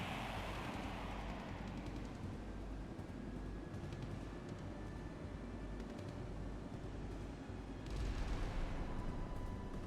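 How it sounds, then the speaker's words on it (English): Missiles launching in the naval combat game Sea Power, set in a 1979 Soviet–Vietnamese scenario: a dense, steady roar of rocket motors and rumble fills the whole stretch, swelling louder near the end with no voices over it. "there's our missiles"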